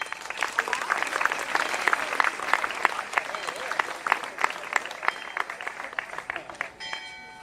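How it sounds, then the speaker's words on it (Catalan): Applause for Santi Vilanova at a central event of an independence march in Terres de l'Ebre, a crowd clapping moderately with distinct individual claps, some rhythmic, fading at the end. "Un fort aplaudiment per a Santi Vilanova."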